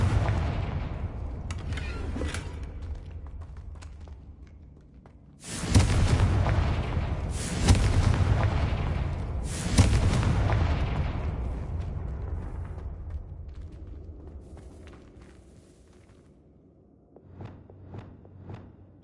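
Confringo fire spell blasts in Hogwarts Legacy: three loud booming explosions a couple of seconds apart, each with a sharp onset and a long rumbling decay, followed by quieter game ambience and faint clicks.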